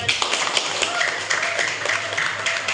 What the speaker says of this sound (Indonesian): Ya, beri tepuk tangan juga.